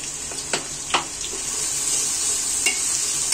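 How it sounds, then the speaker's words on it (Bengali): About two cups of chopped onion fry on top of already fried spices in a pan for a wedding-style beef curry, with a steady close sizzle broken by a few sharp spoon scrapes and clicks as the onions are stirred. "পেঁয়াজটা নেড়ে ভেজে নিব।"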